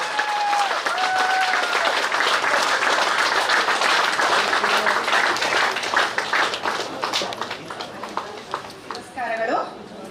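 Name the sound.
audience applause at festival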